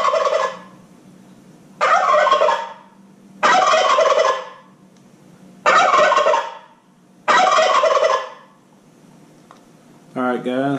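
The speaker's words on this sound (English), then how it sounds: "Turkey gobble." Electronic turkey gobble played through a Flextone Vengeance 50 game call: five loud, rattling gobbles repeated in even bursts with brief silent gaps between them.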